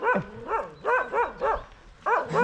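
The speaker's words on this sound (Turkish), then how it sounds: "Çok köpek var ya" A dog barks repeatedly on the Lycian Way hiking trail in Turkey, giving about seven loud, close, yelping barks in uneven bursts with brief pauses between them and no talk.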